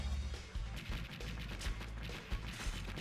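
Dense bursts of missile explosions in the Android Assault shooter game rumble continuously, with repeated booming impacts and crackling blasts layered close and loud throughout.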